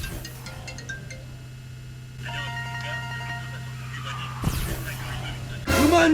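An incoming call rings on a phone: a steady electronic ringtone with sustained tonal notes that starts partway through over a constant low hum, followed by a brief louder burst near the end.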